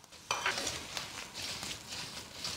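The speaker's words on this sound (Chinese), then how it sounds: "另起锅来一点猪油，炒化后下入紫姜丝丝， 全部炒出香味后下入皮蛋" Century egg stir-fried with ginger shreds in melted lard in a wok, a sudden sizzle bursting in as ingredients hit the hot fat, then steady crackling frying with stirring scrapes, close and fairly loud with no talk.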